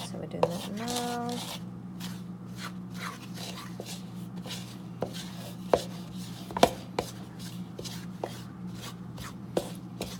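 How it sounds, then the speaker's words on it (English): Flour being stirred into the wet ingredients of banana chocolate chip cookie dough, heard as soft, irregular thuds and scrapes of a spoon in a bowl under a low steady hum. "I'm going to keep stirring until that flour is really mixed in well with the wet ingredients"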